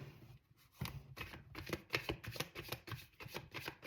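Tarot cards are shuffled and a card is pulled from the deck, giving quiet close rustling and crisp papery flicks in quick bursts, faint and without talk.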